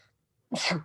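A single sharp sneeze bursts out close to the microphone after a moment of near silence, loud and abrupt with a brief breathy tail.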